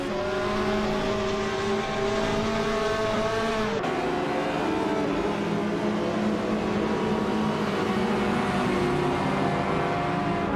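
A 1982 Holden Commodore race car engine drones loudly and continuously during a race, its pitch shifting as the car changes speed, with other race cars' engine noise blended in.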